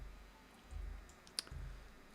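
A single sharp computer mouse click sounds once against a quiet background with a faint low hum.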